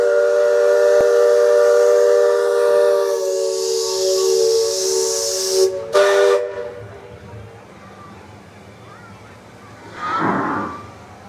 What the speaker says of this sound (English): Hear the steam just pouring out of stacks